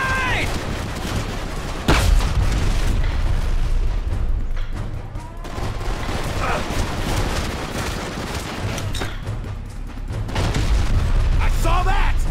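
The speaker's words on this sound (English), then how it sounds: "Grenade!" A grenade blast in the Iraq-set shooter Blacksite: Area 51, a broad booming burst amid ongoing gunfire and shouted squad voices.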